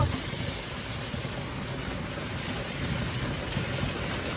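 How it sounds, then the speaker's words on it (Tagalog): Steady heavy rain roars in a dense, even wash of noise with a low rumble beneath, unbroken from start to finish. "ang lakas ng ulan"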